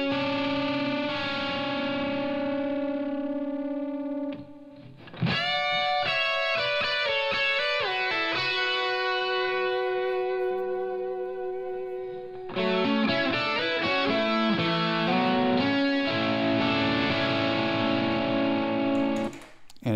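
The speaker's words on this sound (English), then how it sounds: "listen to just the lead guitars." Lead electric guitars reamped through a Line 6 Helix play distorted, effects-laden melodic lines with echo and chorus, with sustained notes, quick runs and a brief gap partway through, loud and alone.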